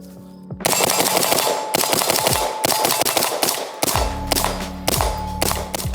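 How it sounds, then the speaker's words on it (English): Rifle shots fired through a heavy suppressor crack out in rapid bursts, loud and close, each report followed by a short echoing tail, with brief pauses between strings of fire. "That suppressor really doesn't suppress all that much."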